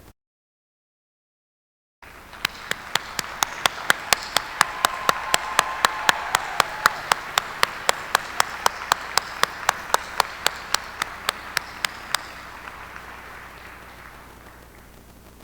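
After two seconds of silence, audience applause for armed forces members at a law school commencement starts up, with one close, sharp clapper keeping an even beat over a softer crowd wash that fades as the clapping stops.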